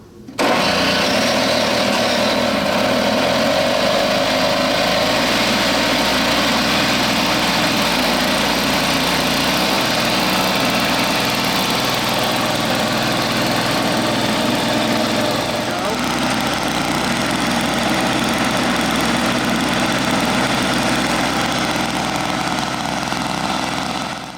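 A Snapper LE 17 snowblower engine runs after a carburetor and fuel line repair, a steady close idle with light vibration lasting throughout, while a person talks over it at times.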